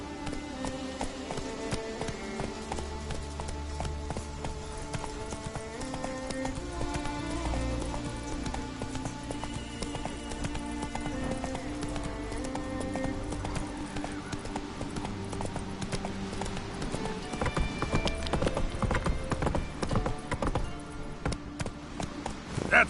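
Roach, a horse in The Witcher 3: Wild Hunt, gallops with steady clip-clop hoofbeats under a constant bed of game music, growing slightly louder toward the end.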